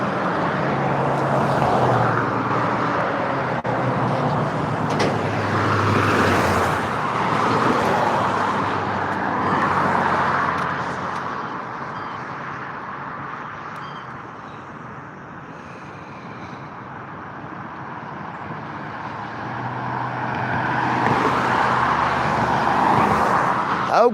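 Cars pass along a road one after another, a swelling and fading roadway whoosh rising twice at a moderate distance with no one talking.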